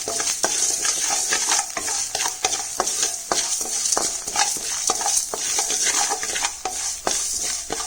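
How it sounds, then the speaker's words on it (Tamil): Mustard seeds, fenugreek and salt fry in a pan for homemade sambar powder, giving a dense, steady crackle of popping seeds over rapid, repeated stirring and scraping. "இப்போ கடுகு நல்லா வெடிச்சிட்ருக்கு"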